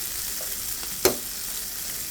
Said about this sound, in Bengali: এই যে মাছটা একটু উল্টে পাল্টে দিলাম, এভাবে দিয়ে উল্টে পাল্টে ভেজে নেব